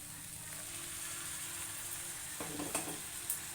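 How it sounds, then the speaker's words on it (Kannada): Boiled peas tipped into vegetables frying in oil for a paneer vegetable kurma, a soft steady sizzle with a few clinks and scrapes of stirring near the end, fairly quiet, no talking. "ಇವಾಗ ನಾನು ಬಟಾಣಿ ಬೇಯಿಸಿದ್ನಲ್ಲ ನಾನು ಅದನ್ನು ಹಾಕ್ತಿದ್ದೀನಿ"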